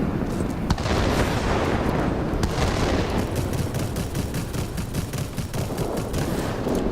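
Aircraft machine guns fire in long rattling bursts during a World of Warplanes air battle, dense rapid fire mixed with engine drone and distant blasts, loud and sustained with no talk.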